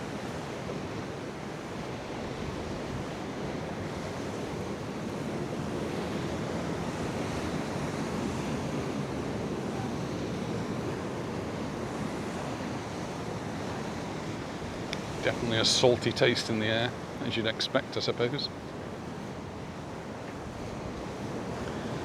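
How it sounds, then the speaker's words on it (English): Sea waves crash steadily against the rocks on the Costa de la Calma shoreline in Mallorca, a continuous heavy surf wash with wind buffeting the microphone and a short burst of sharper splashes near the end, while someone talks over it. "You see the waves like this and how they hit the rocks, you just realise what power there is."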